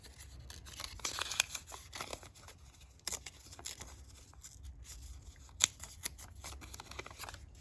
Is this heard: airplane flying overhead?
no